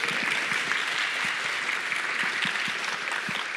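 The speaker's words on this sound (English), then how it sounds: "let's do another big round of applause for Dale" Dense, steady applause from an audience at an opening ceremony, many hands clapping at once in an even roar, heard from within the crowd.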